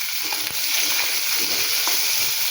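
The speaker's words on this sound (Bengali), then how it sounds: "এই যে এখন ভেজে ভেজে রান্না করতেছি" Fish frying in oil in a pan at home, a loud, steady hiss and crackling sizzle throughout, close up and without talk.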